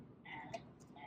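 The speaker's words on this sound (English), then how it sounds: "Those are poison dart frogs" Poison dart frogs, native to the Amazon rainforest, give a few faint, short calls against a quiet background in a tropical rainforest setting.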